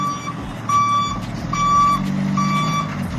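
A truck delivering oak firewood reverses into a yard, its backup alarm sounding three or four steady beeps over a continuous low engine rumble, close and fairly loud.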